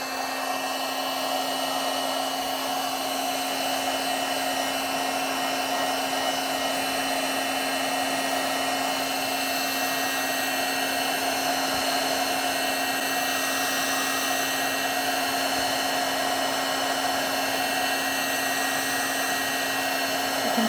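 A heat gun blows continuously while heating scorch paste on raw wood, a steady, loud, unchanging whirring hiss with a constant motor hum that lasts the whole stretch without any talking.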